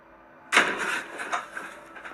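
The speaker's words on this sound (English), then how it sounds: "the door, which is opened into the bedroom, slowly swings closed before slamming shut" A bedroom door slowly swings closed and slams shut in a quiet home. A sudden loud bang is followed by a rattling, decaying rumble and a few smaller knocks.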